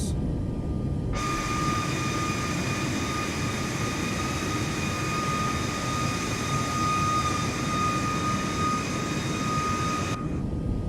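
Boeing 737 MAX jet engines at full takeoff throttle in Microsoft Flight Simulator 2024 give a loud, steady roar with high whining tones, starting abruptly and cutting off just before the end.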